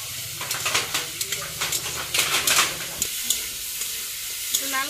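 Dried fish fries in oil with spice paste in a pan, giving a steady close sizzle broken by repeated scraping and clinking as a utensil stirs it, continuous for several seconds.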